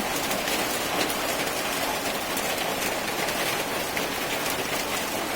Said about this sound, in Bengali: আবহাওয়া অনেক খারাপ, বৃষ্টি।